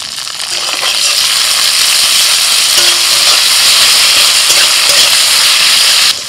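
Onions frying with ginger-garlic paste, slit green chilli, chopped tomato and spices in a pan: a loud, steady, close sizzle and hiss that runs throughout before dropping off at the very end.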